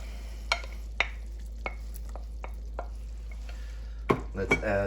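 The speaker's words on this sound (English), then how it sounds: "Now we will put our veal back into it." Veal is returned to a pot of blanquette sauce seasoned with white pepper and salt, then stirred: a few soft, separate knocks and scrapes of a utensil spaced apart, followed by a brief burst of louder clattering and bubbling, with no talking.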